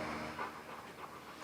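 A Rottweiler panting in quick, breathy rhythm, faint and steady without clear barks.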